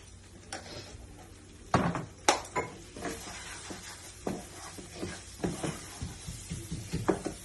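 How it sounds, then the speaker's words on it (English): A spoon stirs red chili powder and garam masala into an onion-cashew paste in a pan, making scraping strokes and soft knocks against the metal in an irregular rhythm over a light sizzle. "ಅದನ್ನ ಒಳ್ಳೆ ರೀತಿಯಲ್ಲಿ ಮಿಕ್ಸ್ ಮಾಡ್ಬಿಡೋಣ"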